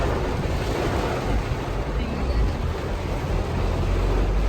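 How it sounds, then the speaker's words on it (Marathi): Heavy rain and floodwater with waves make a dense, constant roar and rush of water, loud and close with wind buffeting the microphone throughout. "कसा डेंजर पाऊस पडायलाय."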